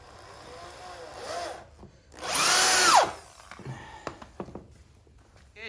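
A power drill drives screws into sawmill lumber while a throwing knife target is built, a loud whining burst in the middle with quieter bursts and knocks around it.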